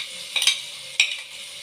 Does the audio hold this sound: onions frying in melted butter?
yes